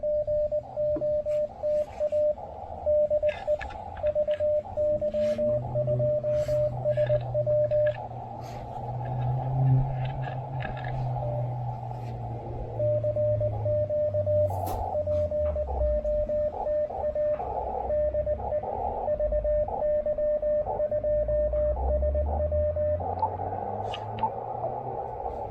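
Amateur radio CW Morse code tones, steady keyed beeps in on-off rhythm during an early morning park activation, with gaps and a low rumbling band noise beneath, no talking.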